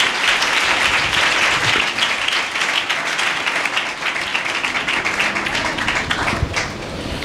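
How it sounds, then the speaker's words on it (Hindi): Loud, sustained applause from a church congregation, dense and continuous clapping that holds steady across the whole stretch. "यीशु के जलाल के लिए जोरदार तालियां बजाएंगे"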